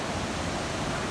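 A swollen river rushing at Jogighat, a brief, constant hiss and roar of fast-moving water with no other sounds.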